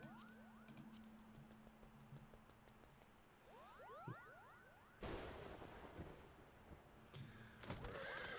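A horse in a video game neighs several times in quick succession, short whinnies over game music, followed by a sudden loud thump and a burst of noisy in-game sound.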